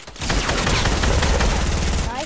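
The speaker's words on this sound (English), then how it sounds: "Grenade launcher is OP again?" Rapid burst of grenade launcher fire in Fortnite, a dense, loud, sustained volley of pops and blasts lasting about two seconds with no talk over it.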